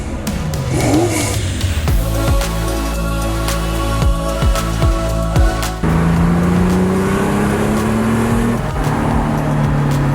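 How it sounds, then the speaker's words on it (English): A Porsche 930 and a Ferrari 512 BB Boxer drive on the road, engines rising and falling through gear changes with rapid sweeping rev changes, loud and close, with no voices. "I'm in the 930 and James is taking out his Ferrari 512 BB Boxer"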